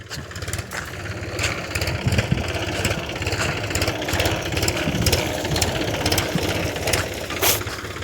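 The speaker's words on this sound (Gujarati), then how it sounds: "જુઓ મિત્રો, આ બીજું ટ્રેક્ટર આવી ગયું છે" A tractor engine idles steadily with an even mechanical rumble and light knocking, close by, with no voices.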